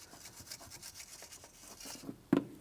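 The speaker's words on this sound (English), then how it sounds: "We're going to be cleaning down along the bracket here. Use a wire brush or some sandpaper." A wire brush or sandpaper scrubbing a belt tensioner mounting bracket on a 2007-2014 GMC Sierra 2500 HD 6.0L: quiet, rhythmic rasping strokes up close, ending with a couple of louder knocks.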